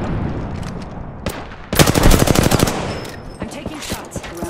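Gunfire from the Apex Legends video game: several loud rapid bursts of automatic shots, with a dense volley in the middle and scattered single cracks after it, heard close and mixed with game effects.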